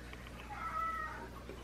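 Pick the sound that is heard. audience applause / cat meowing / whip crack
cat meowing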